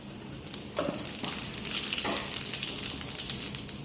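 Cumin seeds sizzle and crackle in hot oil for a tempering over fried potato and okra, a steady close frying hiss with brief popping bursts, no talking.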